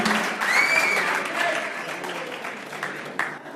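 Guests at a Bees club dinner dance applaud Scotty Nichols, a lively round of clapping from a crowd in a hall with a whistle near the start, gradually thinning out, plus a few louder claps late on.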